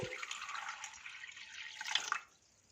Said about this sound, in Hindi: इसमें 600 ml या 3 गिलास पानी शामिल कर देंगे।